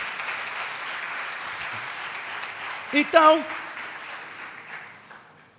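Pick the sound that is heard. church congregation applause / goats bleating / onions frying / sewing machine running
church congregation applause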